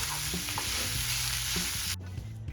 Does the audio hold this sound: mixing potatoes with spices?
yes